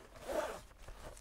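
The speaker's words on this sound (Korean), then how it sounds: "이렇게 지퍼를 닫아서 쓰고요" A zipper is pulled closed on a book storage case, one short, soft, close-up rasping zip in a quiet room with no talking.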